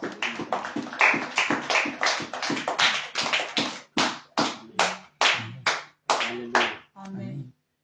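A church congregation clapping hands in unison: about twenty sharp, rhythmic claps, quick and even at first, then spacing out and slowing toward the end before stopping.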